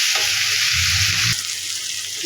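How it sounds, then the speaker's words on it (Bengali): Tomatoes seasoned with salt fry in a pan with a steady, close sizzling hiss, while a brief low scraping of stirring rises partway through before the frying settles back to an even crackle. "এবার ভালোভাবে ভেজে নেবো যতক্ষণ না টমেটোটা বলতে"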